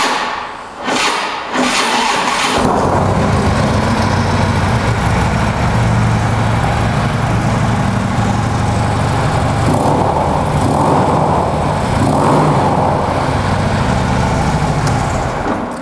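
A Harley-Davidson Street Glide Special FLHXS motorcycle on a cold day cranks briefly with a couple of sputters, then catches and settles into a loud, steady, close idle that runs uninterrupted.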